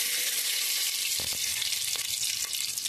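Cumin, black pepper and garlic masala sizzling steadily in a hot pan of oil, a bright continuous fry with a few soft stirring knocks near the end, close and alone.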